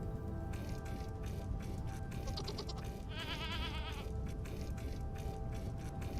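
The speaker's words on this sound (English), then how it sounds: "Is that a female, by the way? No, that's a male goat." Male goat bleating in the survival game Vintage Story, two wavering bleats close by over a steady ambient game background.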